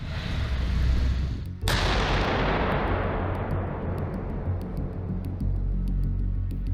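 A Swedish Archer self-propelled howitzer test fires: one deep, heavy cannon blast lands loud and close, then a long rumbling roar rolls out and slowly fades, with faint clicks and ticks behind it.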